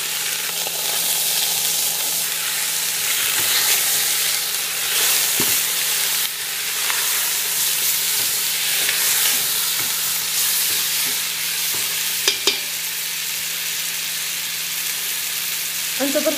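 Chopped onion fries with chicken in a hot pan while being stirred, a loud continuous sizzle close by with occasional scrapes and clicks of the utensil, no voices.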